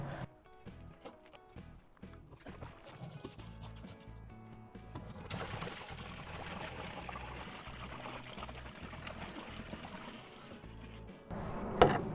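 About 7.5 gallons of filtered Los Angeles tap water pour steadily into a homebrew kettle for an IPA, a continuous rushing trickle that builds and grows louder after the first few seconds.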